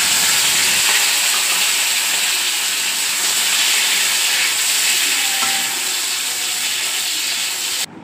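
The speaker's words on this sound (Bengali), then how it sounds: "এবার আমি কড়াই চিংড়ি মাছ দিয়ে দেবো।" Previously fried prawns reheating in a hot wok give a loud, close, hissing sizzle that holds steady for the whole stretch, then cuts off abruptly at the end, with no talking.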